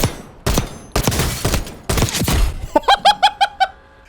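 Pistol shots from an FN 45 handgun in the video game Warzone: a quick run of about five sharp, close shots with ringing tails near the end, after broad noisy bursts of other game action.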